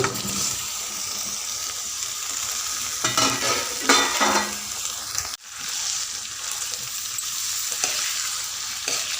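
Ivy gourd pieces frying in a pan with ginger-garlic paste are stirred with a spoon, giving a steady sizzle with scraping bursts midway and a brief drop near the middle.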